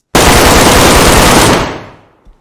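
Loud, close burst of rapid automatic gunfire in the DayZ video game, a dense continuous rattle lasting about a second and a half before cutting off and fading.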